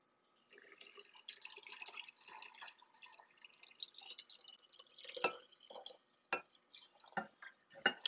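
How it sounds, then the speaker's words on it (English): Sweetened tea is poured into a kombucha jar in irregular bursts, with soft trickling and splashing close by and several sharper drips and plops toward the end. "And now I'm going to pour my tea in,"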